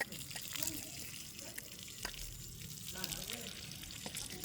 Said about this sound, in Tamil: நான் இதுக்குள்ளே நிற்கிற தண்ணியை வடிக்க போகிறேன்.